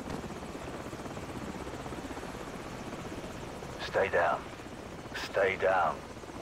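Enemy helicopter in Call of Duty 4: Modern Warfare, a steady rotor drone held throughout at moderate level, with two brief bursts of speech-like sound near the end.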